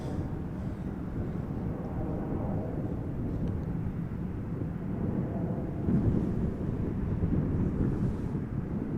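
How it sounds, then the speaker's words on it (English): A Ryanair airliner arriving from Dublin at Amsterdam Schiphol in crosswind, a steady broad rumble of engine roar mixed with wind buffeting on the microphone, swelling slightly toward the end with no talk. "So Ryanair arriving from Dublin in the foreground, Air Canada 777 in the background"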